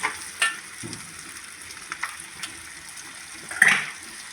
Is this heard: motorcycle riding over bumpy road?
no